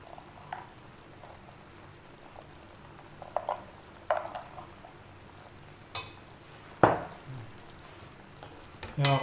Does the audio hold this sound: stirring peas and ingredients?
yes